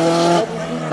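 A race car at a hill climb race roars close and loud as it speeds away, with a steady high engine note that drops slightly partway through the short burst.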